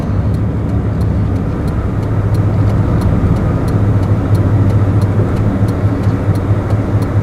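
A car cruising steadily on the road home, a continuous loud interior rumble of engine and tyres with a faint regular ticking above it, no talking.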